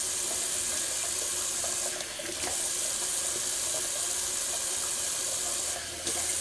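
Tap water runs steadily into a sink to rinse alum off a freshly shaved face, a constant close hiss of flowing water with a couple of brief splashy breaks.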